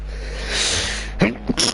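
A commentator's sneeze caught on a live microphone during a PS4 racing league broadcast at Laguna Seca, a sharp close burst around the middle of the clip followed by a couple of short breathy snorts.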